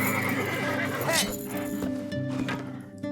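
Horses neigh and whinny with clip-clopping hooves in the fantasy strategy game Eador: Imperium, loud and close, layered over game background sound and a speaking voice.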